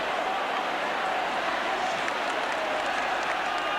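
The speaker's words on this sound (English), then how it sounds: "The ground is humming now as the crowd debate that." Football stadium crowd at an Everton versus Liverpool match, a dense, continuous roar and murmur of many voices that fills the ground and stays loud and even throughout.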